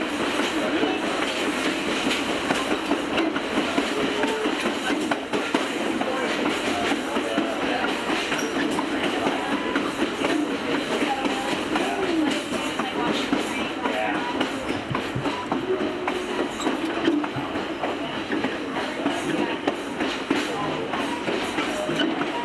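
The Adirondack Scenic Railroad train runs along the track between Thendara and Otter Lake, heard from on board as a steady, close rumble with rhythmic clickety-clack of wheels over rail joints throughout.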